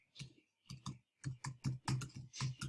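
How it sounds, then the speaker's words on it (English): Keys on a computer keyboard click in quick bursts, a short run of soft, close taps with brief pauses between groups. "I can type in"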